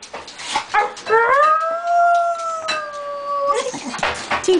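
Dogs howl in a long, sustained, wavering tone that rises and then holds for a couple of seconds, with short yips and whimpers before and after it, heard close by.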